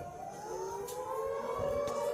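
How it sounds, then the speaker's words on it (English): Maltese air raid siren wails in the distance, a steady rising tone that holds at a sustained pitch, faint and continuous with light background noise and no voices. "Guys, there's more sirens."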